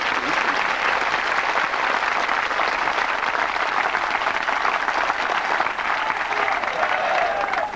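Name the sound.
audience clapping at a spiritual gathering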